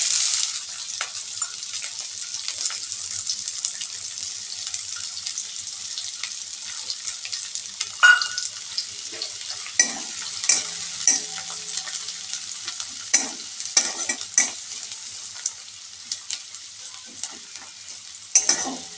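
Chopped onion fries in oil over medium heat, a steady bright sizzle with intermittent scraping clicks of a spatula stirring, close and uninterrupted by voices.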